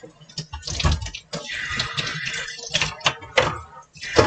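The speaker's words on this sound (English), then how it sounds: "I'm going to go ahead and run some dishwater" A kitchen tap runs into a sink filling with dishwater, an uneven close splashing gush with small clunks and knocks mixed in.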